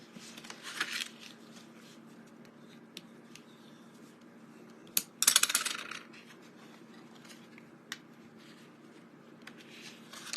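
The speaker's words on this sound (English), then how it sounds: "So I'm going to fold this section." Cut paper card is folded and creased by hand, with soft rustles and a brief burst of crisp crinkling midway, plus a few light taps against a faint steady hum.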